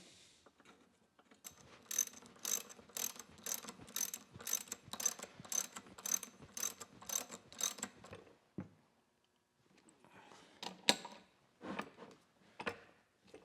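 Bolts being ratcheted back into the housing of a repaired blacksmith blower, with a quick run of rhythmic ratchet clicks, then a pause and a second shorter burst, close and clear with no speech.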